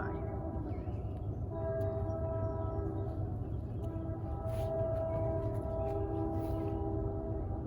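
A train rolls past garden grounds with a low, continuous rumble and a sustained, tonal horn-like drone layered above it, holding steady at moderate distance.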